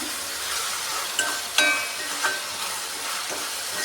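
Chopped tomatoes and onions sizzle steadily in a hot pan as they are stirred and sautéed for a paneer dish, with a few sharp scrapes of the spoon over the continuous frying hiss.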